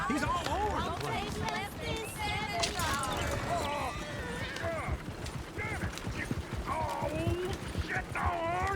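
Horse hooves clip-clop steadily through Red Dead Redemption 2, a rhythmic trotting of several horses near a coach under almost constant talk and shouting.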